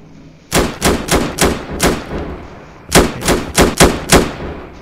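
Gunfire in the Roblox game Bodycam comes as two rapid bursts of loud, sharp shots, four in the first volley and five in the second, with a brief pause between.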